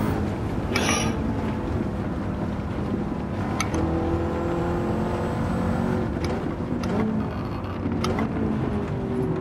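The engine of a 2010 McLaren MP4-12C in a racing game keeps up a steady, loud drone with small shifts in pitch over the whole stretch, and no one speaks.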